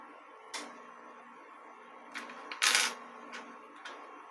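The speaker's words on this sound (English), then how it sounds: "So I'm going to cut the ball end off." Metal cutters snip the ball end off a guitar string, leaving a few sharp clicks and one louder crisp snap near the middle over a quiet room hiss, close to the listener.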